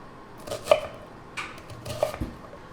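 A few knife strokes chopping shallot on a cutting board, short crisp knocks in two loose clusters, close and fairly quiet with no talking.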